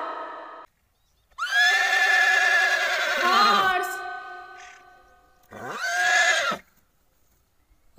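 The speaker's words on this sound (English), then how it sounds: "H for horse." A horse gives a long, loud neigh with a shaky, wavering whinny, then a second shorter neigh after a pause, heard close and clear.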